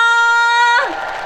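A sustained, tonal voice note cuts off into a burst of cheering from a large concert crowd for the singer at an open-air music concert, with the roar heard briefly at the end.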